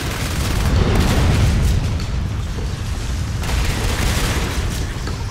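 Gunfire and booming explosions in Natural Selection 2, a dense, continuous barrage of heavy blasts that is loud and close, with no talk.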